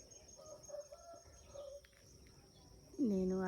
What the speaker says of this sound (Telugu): గార్డెన్లోకి రాగలోనే పక్షుల అరుపులు అయితే భలే ఉంటాయండి